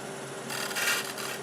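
A wood turning tool's edge being sharpened, a steady close rasping grind that swells midway through the short stretch.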